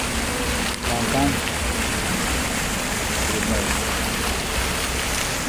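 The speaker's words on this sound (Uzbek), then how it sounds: "yomg'ir yog'ib turibdi." Rain falls steadily outdoors near an airport shopping area and fountain, a constant dense wash of droplets at moderate loudness with a faint voice briefly underneath.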